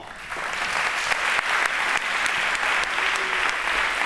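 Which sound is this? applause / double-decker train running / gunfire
applause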